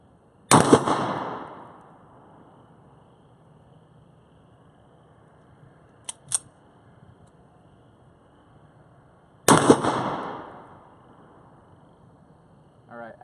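Two sharp pistol shots from a TCM handgun ringing off a CTS steel target, loud and close, spaced several seconds apart with faint clinks in between.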